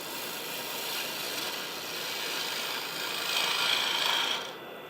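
A bowl gouge cutting a wooden bowl on a lathe produces a continuous close, rasping shave that swells slightly near the end before easing off, with no talk.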